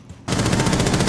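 Rapid automatic gunfire in Rainbow Six Siege bursts in after a brief quiet moment, a loud, close, evenly spaced stream of shots that continues without pause.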